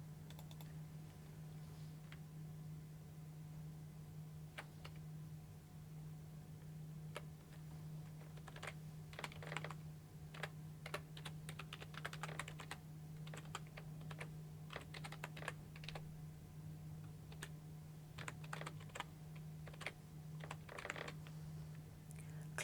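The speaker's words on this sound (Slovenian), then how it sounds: "v tole okence vpisali isto povezavo" Steady typing on a computer keyboard while a web link is entered, with quick irregular key clicks in bursts over a constant low electrical hum. No one speaks.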